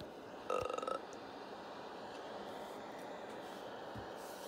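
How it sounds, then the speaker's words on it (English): A single short, loud burp rings out near the start, with a tonal, croaking quality, followed by quiet background hiss and a couple of faint soft sounds. "Don't burp."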